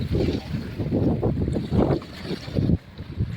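A boat runs across open water at sea, with steady engine rumble, wind buffeting the microphone and churning water continuing throughout.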